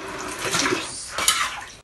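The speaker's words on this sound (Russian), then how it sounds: "То есть вы уже час собираете воду совком просто?" Floodwater being scooped and splashed with a dustpan at a flooded dacha plot, giving two quick, close watery sloshes with no talk.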